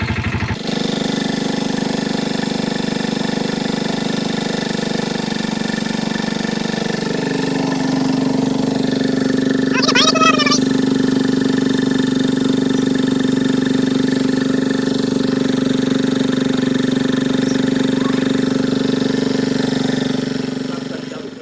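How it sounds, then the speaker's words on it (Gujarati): A Royal Enfield Bullet motorcycle engine, started with a single kick, idles with a steady, even thump that runs the whole time, close and fairly loud, with a brief voice heard midway. "આ બુલેટને સ્ટાર્ટ કરીએ આપણે"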